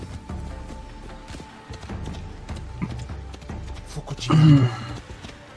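Horse hooves clip-clop in a video game trailer, quick muffled beats mixed under music and effects, with a heavier thumping burst near the end as someone speaks briefly.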